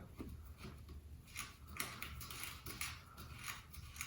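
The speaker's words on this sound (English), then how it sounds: "We're going to go ahead and remove the nut for the valve stand." Valve stem nut being unscrewed on a tubeless mountain bike tire: faint, continuous metallic ticking and clicking, close but quiet, with no talk.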